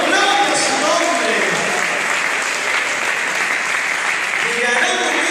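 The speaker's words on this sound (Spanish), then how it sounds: "¡Aplauda para el Señor!" Church congregation applauding during a sermon, a thick continuous wash of clapping with voices and cheers mixed through it, sustained at an even level.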